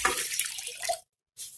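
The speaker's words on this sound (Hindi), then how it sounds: "इसमें मैं पानी डालूंगी" Water gushes steadily into a pot in a home kitchen while apricot and plum sharbat is being prepared, a loud close splashing pour that stops abruptly, then resumes briefly after a short silence.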